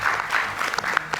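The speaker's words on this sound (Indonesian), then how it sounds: "kita berikan tepuk tangan, Bung Adian" Audience clapping for Bung Adian at a talk-show event, a short burst of dense applause with a raised voice briefly cutting through.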